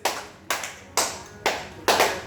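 Hand claps at a children's birthday party for twins, five sharp, evenly spaced claps about half a second apart, close and fairly loud.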